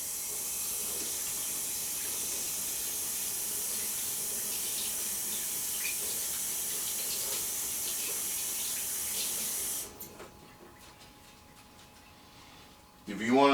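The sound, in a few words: tap water running while washing hands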